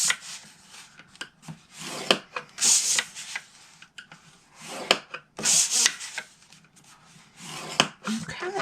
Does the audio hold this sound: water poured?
no